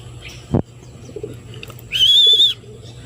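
Racing pigeons at a loft, with a soft coo and a sharp brief knock, then a short high whistling chirp near the end, faint against quiet background hum.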